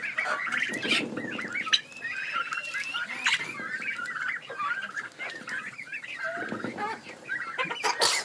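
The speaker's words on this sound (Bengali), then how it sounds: "কিভাবে টার্কি মুরগিতে খাচ্ছে দেখুন।" Turkeys and chickens cluck and chatter close by, with soft pecking and rustling underneath as turkeys eat cabbage; steady bird calls continue throughout without any talking.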